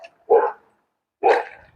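A dog barks twice, each bark a loud, short burst about a second apart with silence in between, heard up close and alone.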